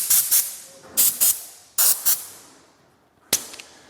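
Compressed air from a Werther CS-COMPACK X air compressor hose in a garage, fired in several short loud hissing bursts, some in quick pairs, with brief gaps between them.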